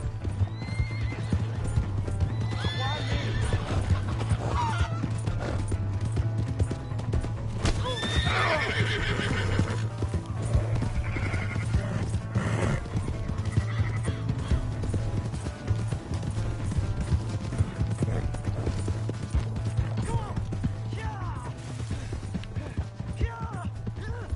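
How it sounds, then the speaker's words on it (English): A horse's hooves clip-clop steadily while it whinnies and neighs several times in Red Dead Redemption 2, over a low droning hum, with creaking tack and mechanical sounds mixed in. "Hey, that's my horse!"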